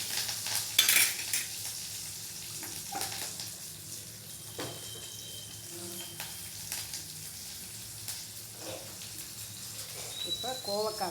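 Onion and green chili sautéing in a pan, a soft sizzle with a spoon stirring and scraping now and then, faint and close, with a voice talking over it.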